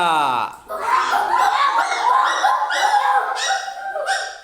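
A voice imitates a dog during a classroom action game, yapping and woofing in a quick run of barks and yelps, close and loud, with a giggly edge.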